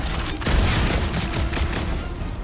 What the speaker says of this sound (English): Rockets! Fireworks!